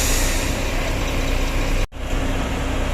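A bus engine rumbles loud and steady as a Flexiben Salim Airline bus pulls away on a departure bound for Ranah Minang, with one brief sharp dropout near the end.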